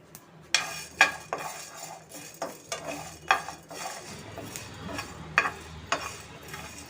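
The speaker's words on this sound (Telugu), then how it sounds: "దాల్చిన చెక్క, లవంగాలు, మిరియాలు అండ్ మెంతులు ఇవి కూడా మనం లైట్గా కొంచెం రోస్ట్ చేసుకుందాం." Whole spices, cinnamon, cloves, black pepper and fenugreek seeds, dry roasting in a pan, with repeated sharp scraping and clinking strokes of a spatula against the metal over a low background, no talking.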